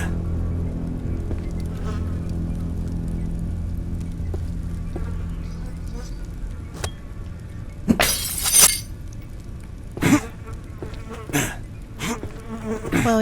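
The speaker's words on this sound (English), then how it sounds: "Well, we broke the glass" Glass shatters in the video game Radiolight: one sharp, bright crash rings out near the middle and is followed by a few short clinks, over a low, steady ambient hum.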